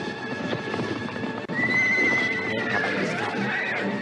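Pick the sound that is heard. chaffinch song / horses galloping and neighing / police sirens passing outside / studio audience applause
horses galloping and neighing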